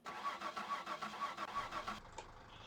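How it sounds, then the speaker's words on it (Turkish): Car engine cranking in My Summer Car: a rapid rhythmic starter whir of about seven or eight pulses over two seconds, then cutting to a steadier, quieter engine hum with no talk over it. "şimdi çalıştır arabayı."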